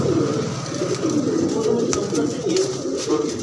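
Cooing of a large king-size pigeon shown by a pigeon keeper in Bareilly, a steady low murmur of calls running throughout at close range.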